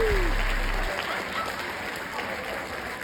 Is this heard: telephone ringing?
no